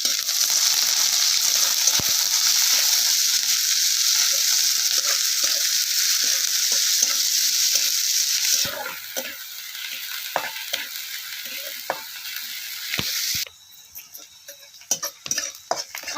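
Chopped onion sizzles steadily in hot oil for green garlic thecha, a loud close frying hiss with occasional spoon scrapes and stirring clicks, dropping to a quieter sizzle toward the end.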